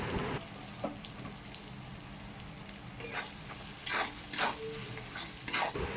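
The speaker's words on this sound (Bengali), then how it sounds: "জিরে আর ধনে গুঁড়ো দিয়ে মশলাটা ভালো করে কষিয়ে নেব।" Masala with cumin and coriander powder sizzles in a pan for an egg tadka, with repeated scraping stir strokes cutting through the steady frying hiss, close and fairly loud.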